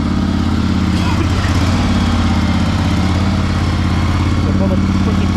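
A used riding lawn mower, bought for $300, runs loud and close with the clutch in and gas applied, giving a steady, throbbing mid-pitched engine drone that holds for the whole stretch while someone talks over it.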